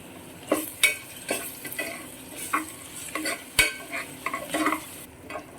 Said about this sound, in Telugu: జస్ట్ ఇలా పచ్చివాసన పోయే వరకు అల్లం వెల్లుల్లి పేస్ట్ని ఫ్రై చేద్దాం